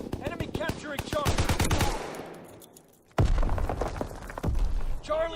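Gunfire in Call of Duty WW2 Domination, rapid bursts of automatic shots up close, a lull, then more heavy firing with booms and voices over the action.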